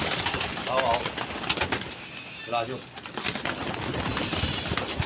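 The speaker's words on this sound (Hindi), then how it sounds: "कबूतर आ गए इस खुशी दे विच" Pigeons coo near a house in the early morning, soft repeated bursts heard against a steady outdoor background, with some voices talking nearby.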